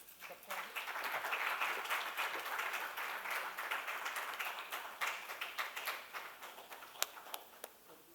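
Applause for speakers at a menstrual hygiene management conference and awards event, a fairly faint, distant crowd clapping steadily, thinning toward the end into a few sharper individual claps.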